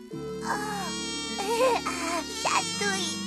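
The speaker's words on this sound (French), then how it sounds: "Il bourdonne et vole en te chatouillant le nez, petit ourson." A glowing flying insect in a French children's cartoon buzzes with a thin, wavering whine that rises and falls over a sustained musical drone.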